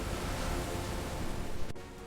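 Rushing floodwater of a swollen jungle river after heavy rain in a cartoon, a steady broad roar and hiss with a brief dropout near the end.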